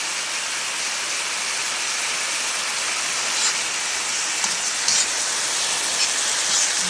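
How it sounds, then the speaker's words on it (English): Stir fry sizzling steadily in a hot pan on a keto, low-carb dish, a constant broadband hiss with a few faint clinks and scrapes of stirring near the end, close and without talk. "We're stirring it and frying it."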